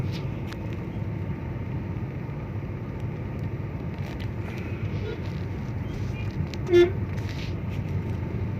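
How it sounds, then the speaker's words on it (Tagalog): Congested road traffic with a constant low engine rumble from idling and crawling vehicles, and a short car horn toot near the end standing out above the drone. "as you can see mga idol sobrang traffic na naman dito"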